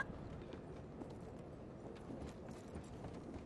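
Hooves clip-clop quietly in a ranch roleplay video game, a soft, continuous run of irregular thuds with no talking over them.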